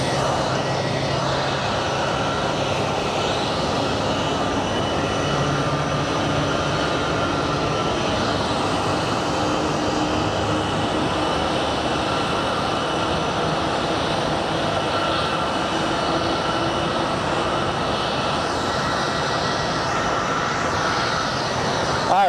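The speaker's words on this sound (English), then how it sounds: "there's the plane for Eugene, Oregon that you were looking for, Scott." Jet airliner engines at Phoenix Sky Harbor International Airport roar in a steady, broad, loud drone that holds for over twenty seconds, a departing plane heard from nearby.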